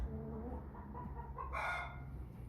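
A five-month-old American Bresse cockerel crows once in a pen. The rising call is close and clear against a low steady background hum.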